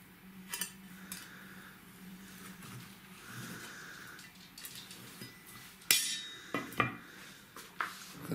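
A knife slicing through lightly salted char fish on a board, giving a few soft cuts and then sharper clinking taps of the blade near the end, close and moderately quiet, with no voices.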